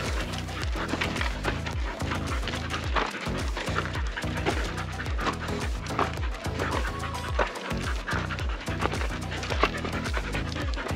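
A dog pants rapidly and rhythmically close by, quick breathy huffs repeating steadily without pause.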